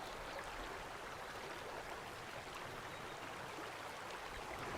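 A shallow stream flows with a steady, even rush of water that holds constant and faint throughout, with no voices over it.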